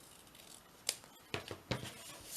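Scissors snip paper three times while trimming a piece for a hinged craft page, each cut a short crisp close-up slice separated by brief pauses, with no talking.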